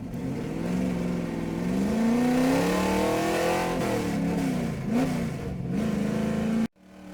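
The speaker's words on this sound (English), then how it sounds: "Here comes that Pontiac GTO out the turn, hugs the outside wall, stays in his lane" A Pontiac GTO street stock race car engine at Boomtown Speedway during qualifying, revving hard as it drives through a turn, loud and close with rising and falling pitch before cutting off abruptly.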